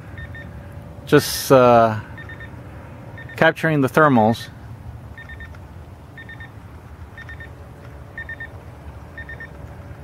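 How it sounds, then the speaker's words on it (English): A timer beeps while a Park Zone Radian glider is flown outdoors, giving short, faint, evenly repeated beep pairs in the background after someone speaks briefly over the steady hum of the scene. "that's my timer"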